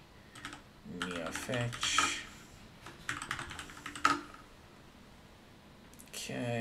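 Fast bursts of clicky keystrokes on a computer keyboard while typing a Linux package-install command on Salix Linux, close and fairly quiet, interleaved with someone talking.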